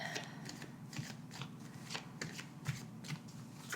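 A Golden Universal Tarot deck being shuffled by hand, with soft repeated riffling and papery slaps in a steady quick rhythm, close and quiet throughout, with no talking.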